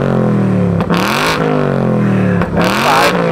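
A car engine revving hard on throttle along the banking at Charlotte Motor Speedway, loud and close, in track mode, with two brief dips where the pitch drops and climbs again.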